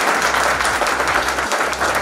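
Loud, sustained audience applause at a business motivational event in India, dense overlapping hand claps from a large crowd filling the room, with a low murmur beneath.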